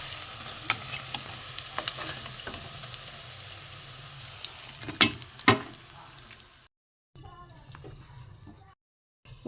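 Egg fritters frying in a pan, a steady sizzle broken by a few sharp clicks and stirring knocks, fading briefly to silence near the end.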